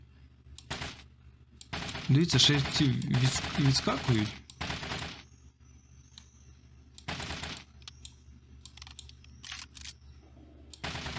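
Bursts of rapid automatic gunfire in the zombie game Zombie Raid: No One Survives, several short volleys with gaps between, with someone speaking quietly over the shots.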